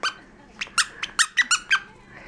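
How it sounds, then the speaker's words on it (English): Squeaky dog toy with a squeaker inside, giving about seven sharp squeaks in an irregular run, close and loud. "Oh no, it has a squeak in it."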